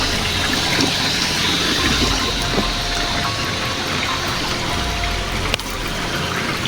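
Rushing water from a small waterfall pours steadily in a broad, even wash of noise, close and continuous with no voices over it.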